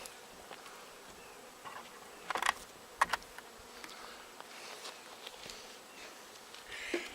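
Honey bees buzz faintly around a bee yard in a thin, continuous drone, broken by a few brief louder clicks and bumps close by.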